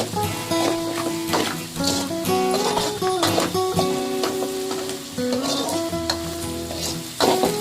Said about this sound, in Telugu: దాదాపు 10 నిమిషాల వరకు వేయించాలి.